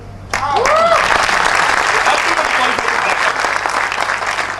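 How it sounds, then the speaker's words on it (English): Audience applause at a business meeting breaks out suddenly and holds as a loud, dense crowd clapping, with a few voices calling over it near the start. "are you ready to make clap once more?"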